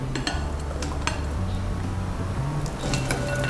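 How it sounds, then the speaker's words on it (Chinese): Steamed potatoes and yam going into a mixing bowl in a home kitchen, heard as a few sharp clinks and knocks of utensils against the dish over a steady low hum. "准备一个调理碗，把蒸熟的马铃薯和山药放进来"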